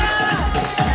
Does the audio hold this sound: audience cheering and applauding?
yes